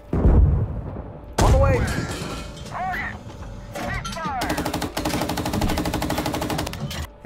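Tank guns and machine guns firing in a Russian tank video game, heavy thuds followed by sustained rapid bursts of automatic fire, with a voice speaking briefly over the shooting.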